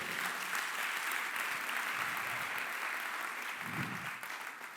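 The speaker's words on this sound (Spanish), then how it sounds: "Si le va a aplaudir, apláudale fuerte al Rey" A church congregation applauds during a sermon, with dense, even clapping that holds steady throughout and sounds somewhat distant and soft, with no voices standing out.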